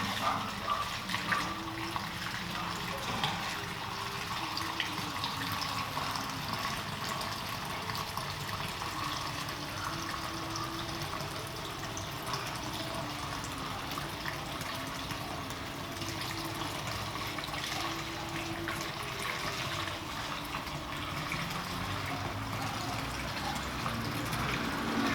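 Gas and oil pour steadily through a funnel into a Chicago Electric portable generator, a continuous gurgling liquid rush that runs unbroken for about twenty-five seconds with no talk.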